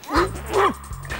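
A dog barks twice in quick, close, loud yips with a short whimpering tail, heard up close indoors.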